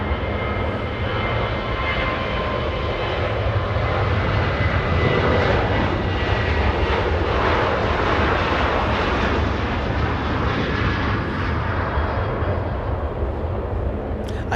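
Jet airliners depart Los Angeles International Airport, a loud, continuous engine roar swelling and rumbling steadily through the whole stretch, heard alone without voices.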